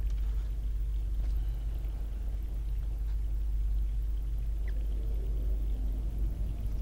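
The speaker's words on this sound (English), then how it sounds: "There's a storm heading this way." Low, continuous rumble of an approaching storm in The Longest Journey, a deep steady roar with faint distant crackles, heard alone without voices.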